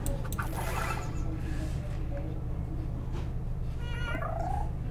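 Cat meows and purring from the match-three mobile game Zveryata, steady and close throughout, with a brief chirpy meow near the end over a continuous low hum.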